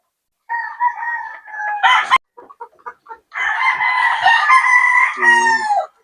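Boston Roundhead gamefowl rooster crowing up close and loud, two long harmonic crows separated by a burst of short clucks, set in a backyard breeding yard.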